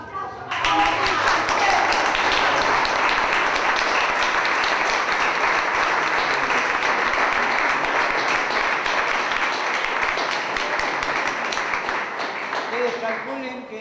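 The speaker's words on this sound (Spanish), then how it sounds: "Un aplauso." An audience breaks into long, loud applause, a dense continuous roar of clapping that starts abruptly and holds steady for over ten seconds before tapering.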